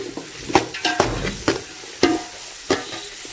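Shredded cabbage, beans and carrot stir-fried in a pan for restaurant-style chicken fried rice, with repeated quick clacks and scrapes of a spatula over a light sizzle.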